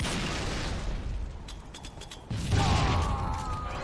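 Grenade explosions in the Halo 2 video game, a dense rumbling series of booms and bursts, fairly loud, with a heavier blast near the end and no talk over it.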